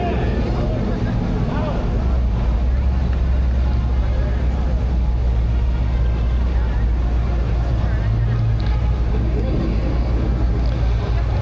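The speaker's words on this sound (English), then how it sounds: "That's it, rev that engine when you pass by." Classic 1950s and 1960s cars rev their engines as they pass in a veterans memorial parade, a loud, constant low rumble that swells briefly near the end amid crowd noise.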